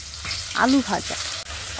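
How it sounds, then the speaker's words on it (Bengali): Oil sizzles steadily as potatoes fry, a constant crackling hiss, with a brief voice rising over it midway. "ভাজছে আর তুলছে, ভাজছে আর তুলছে"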